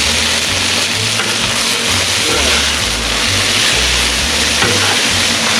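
Burgers sizzle and hiss steadily on a Blackstone flat-top griddle as they are flipped, a dense broadband frying noise that holds loud and close throughout, with a low rumbling hum running underneath.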